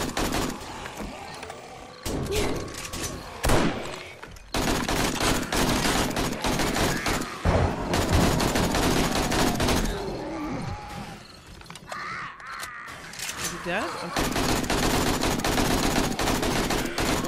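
Bursts of AK rifle gunfire in the video game 7 Days to Die during a horde night, rapid loud volleys with brief pauses, mixed with other game effects and impacts.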